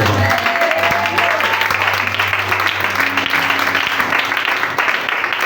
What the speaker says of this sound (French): Est-ce qu'on peut acclamer très fort le nom?